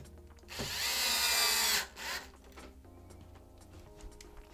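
A power screwdriver drives a screw into an Xbox Series X disc drive housing in one loud whirring burst of about a second, followed by a short second spin and then a quiet background.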